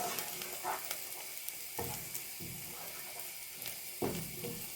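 Onion and tomato paste sizzle in a frying pan, a faint steady hiss punctuated by a few soft scraping stirs.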